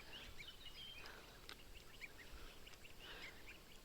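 Geese honking faintly in a small group, scattered nasal calls over a noisy outdoor background.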